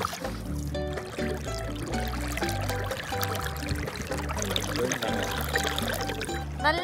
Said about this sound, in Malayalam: തുഴയുന്ന ആ ശബ്ദവും എല്ലാം കൂടി നല്ല ആംബിയൻസ് ആണ്.